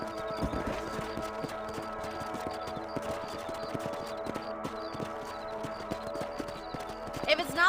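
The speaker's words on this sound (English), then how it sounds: "Let's get back on the horses and see what else is going on." Horse hooves clip-clop in a steady trotting rhythm through the Red Dead Redemption video game on Android, mixed under background music and a brief voice, with a louder burst near the end.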